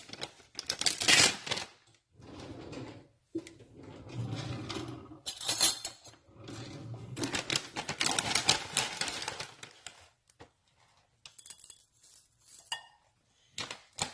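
Granola pouring and clattering into a bowl in a home kitchen, bursts of crunchy rattling and light clinks, close and moderately loud, with brief pauses.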